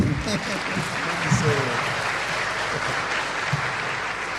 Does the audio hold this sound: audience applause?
yes